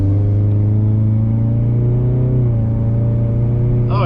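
A 2020 Ford Mustang EcoBoost four-cylinder accelerates hard, its loud engine drone climbing steadily in pitch from inside the cabin, with a brief dip partway through before it pulls on.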